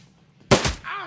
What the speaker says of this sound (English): Weak shots.